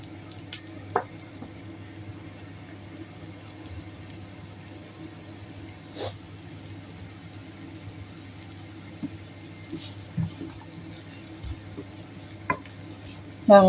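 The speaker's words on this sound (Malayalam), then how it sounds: "ചെറിയ ചെറിയ ഉള്ളിയൊക്കെ ഇട്ട് നമ്മൾ വാട്ടാൻ പോവാണേ" Onions and shallots sautéing in a pan, a low, quiet sizzle with occasional soft stirring knocks and scrapes, close and without talk.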